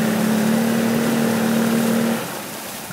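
A boat outboard motor runs steadily and loudly with a droning engine tone, which drops off near the end as the engine note eases.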